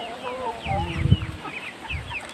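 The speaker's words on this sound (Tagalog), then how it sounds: "Rhode Island chicken." Black and red Rhode Island chickens in a backyard cluck and chirp close by in short bursts, with lively bird calls overlapping throughout.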